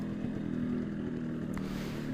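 A 2008 Yamaha RX King two-stroke motorcycle with its final-model stock muffler and RCB wheels, its engine droning steadily and close throughout with a low buzzing tone and no voices.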